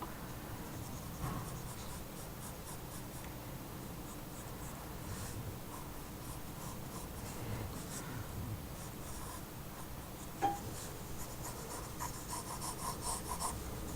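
A pencil scratches and scrapes across a sheet of paper while a manga face is drawn, making soft, faint, continuous strokes for the whole stretch with one small tap near the end.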